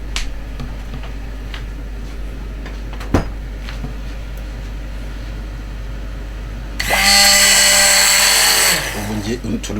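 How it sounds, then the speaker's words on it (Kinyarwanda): A blender or grinder runs loudly for about two seconds while ingredients for a homemade soup are being ground in a kitchen, after a steady background hum, a single sharp click and low talk. "Turi gusya bya bintu."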